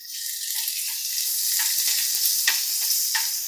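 Shrimp frying in a hot pan with golden sautéed onion and ginger gives off a steady, bright sizzle with light stirring scrapes, close up and with no one talking.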